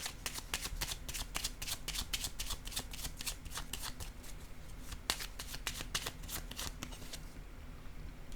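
Tarot cards shuffled by hand, a continuous close crackle of riffling and flicking card edges for about eight seconds, with no voice over it.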